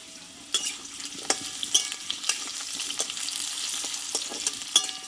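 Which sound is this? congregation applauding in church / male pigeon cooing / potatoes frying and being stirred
potatoes frying and being stirred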